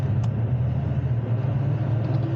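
A car engine idles with a steady, close, low rumble that stays even throughout, with no distinct throttle rise standing out.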